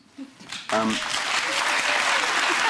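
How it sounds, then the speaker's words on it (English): A London studio audience on a satirical news quiz bursts into loud, sustained applause that starts abruptly and carries on to the end, with a brief voice just before it. "Metropolitan Liberal London audience clapping UKIP election results"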